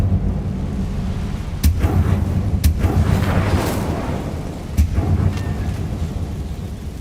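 Incendio fire spell cast in Hogwarts Legacy, heard as a few sharp booming bursts over a dense rumbling, crackling game soundscape that stays loud throughout.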